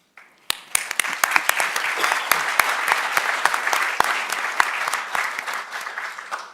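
An audience at an award ceremony for social entrepreneurs breaks into applause, steady crowd clapping with sharp individual claps standing out, kept up for several seconds.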